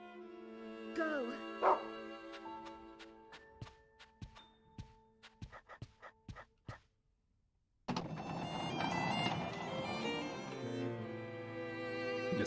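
Dog barking in the horror video game Rule of Rose: a short run of sharp, separate barks with game music under it. A steady, noisy game ambience takes over after the barks stop.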